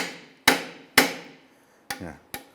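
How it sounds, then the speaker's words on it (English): Four sharp metallic hammer blows ring out on a rusted outer tie rod end of a 1999–2004 Jeep Grand Cherokee, spaced about half a second apart, close and loud, each with a brief decaying ring. "We're using a hammer to try and bonk this and break some of the rust free."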